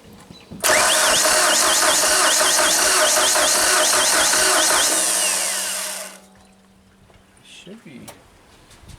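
A Genie boom lift engine cranks with a fast repetitive starter whine, catches and roars at a loud steady pitch for several seconds, then cuts off abruptly. A faint voice follows in the quiet afterward.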